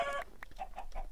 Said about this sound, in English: back to killing chicken.